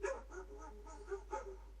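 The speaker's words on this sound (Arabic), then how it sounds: "حبكت الهوهوه دلوقتي يعني" A dog barks outside a window in several quick, muffled barks and yips, one after another, with no one talking.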